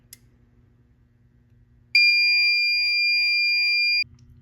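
A fire alarm system sounds during a test, a loud steady electronic tone starting abruptly midway and holding for about two seconds before cutting off, with a quiet room before and after.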